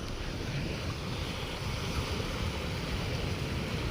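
Sea waves wash continuously against the shore while wind buffets the microphone, a dense, steady roar with no pauses near a coastal creek fishing spot.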